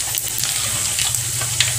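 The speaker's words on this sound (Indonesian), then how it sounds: "Kita goreng 4 dulu, karena kulit pangsit ini cepat kering ya" Wonton skins stuffed with glass noodle filling fry in hot oil with a steady, dense crackling sizzle that stays loud and close throughout, with no voices.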